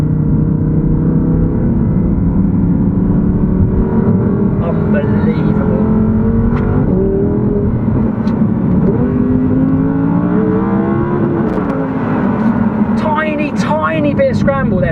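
An Audi R8 V10 RWS with traction control off, heard from inside as the engine drones and rises in pitch through a corner, loud and continuous from start to finish.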